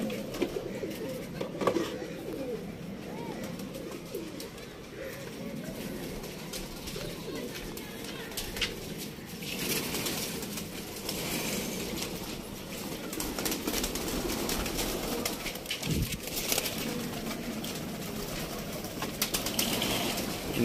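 Pigeons in a coop coo softly and repeatedly at close range, with occasional wing flutters and shuffling over a continuous background hum.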